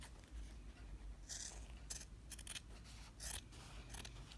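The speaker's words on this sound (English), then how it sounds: "I like to cut the corners at an angle to get rid of the extra bulk of the fabric" Sharp scissors snip through fabric at the corners of a small zippered coin purse, several crisp cuts in a quick irregular rhythm, close and fairly quiet with no talking.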